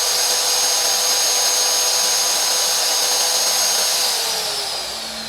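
A DongCheng DJC16 magnetic drill runs with no load, giving a steady, loud, continuous whine and motor hum that eases slightly near the end.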